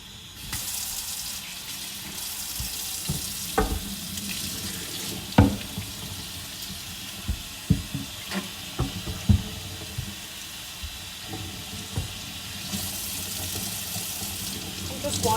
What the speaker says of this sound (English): I'm just washing my chopping board here